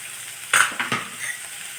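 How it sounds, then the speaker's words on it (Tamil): A small onion is sautéed in a pan with garlic, giving a low steady sizzle and a couple of quick scraping stirs close by. Nobody speaks. "ஒரே ஒரு சின்ன சின்ன சைஸ் வெங்காயம் ஒன்று இதெல்லாம் கொஞ்சம் வதக்கிக்கலாம்"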